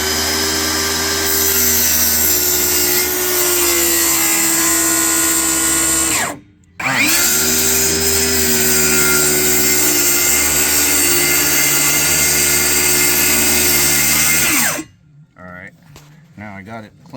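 A power saw whines loudly and steadily as it cuts a clamped workpiece on a workbench, pausing briefly midway before a second long cut, then spinning down to scattered quieter handling sounds.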